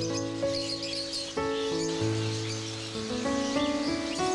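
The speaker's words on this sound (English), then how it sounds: "Birds with colorful feathers or beautiful voices are caged here to be sold." Caged birds at a street bird market chirp and tweet in a busy overlapping chorus. Sustained tonal sounds and steady background hum run underneath, fairly faint overall.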